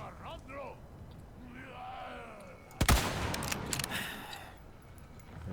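Gunfire in the video game Resident Evil 4: a sharp loud shot near the three-second mark followed by a burst of further shots and impacts, with game voices and effects before it.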